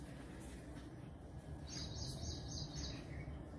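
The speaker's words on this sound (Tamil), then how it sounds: "குருவி சத்தம்." Sparrows chirping around a home and garden, a few bright short chirps in quick bursts, fairly faint and distant over a constant background hum, with no talking.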